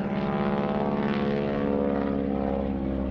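A 5,500-pound propeller airplane performing aerobatics at the NAS Oceana airshow, its engine a loud, steady buzzing drone with a slight rising and falling waver, no voices present.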